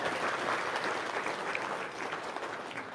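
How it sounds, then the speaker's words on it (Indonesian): Audience applause at a talk on parenting, a dense, steady wash of clapping from many hands that stays loud and even throughout. "Cep, tepuk tangan dulu dong."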